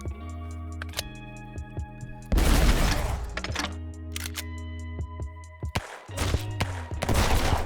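Rapid bursts of SMG fire in the top-down roguelike shooter game Flashes of Chaos, with sharp repeated shots over layered game music and effects, loud and close.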